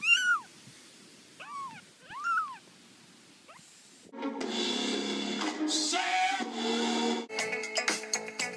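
Three rising-falling meows from a house cat early on, moderately loud and close, followed by a dense stretch of louder mixed noise that buries any further calls; no speech.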